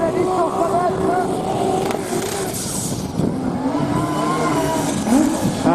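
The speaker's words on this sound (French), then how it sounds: "Moteur tout doucement dans les tours." A diesel tractor engine drones steadily at low revs during a tractor pulling competition in Bernay, loud and close, with a crowd or commentator voice faintly mixed in.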